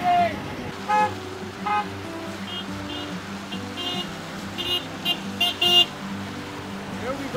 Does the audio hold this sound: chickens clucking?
no